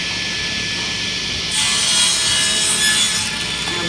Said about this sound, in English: I'm ready for my first taper cut.